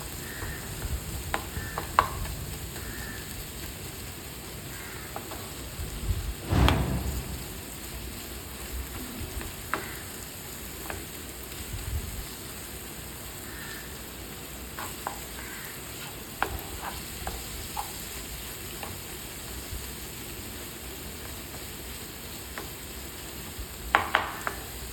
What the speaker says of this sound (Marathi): आता आपल्याला हे चांगलं तेल सुटस्तोपर्यंत परतायचं आहे.